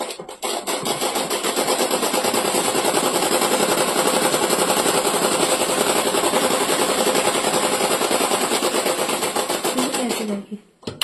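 A sewing machine stitches a folded pajama hem, running as a steady, loud, continuous mechanical whir for about ten seconds before stopping abruptly near the end.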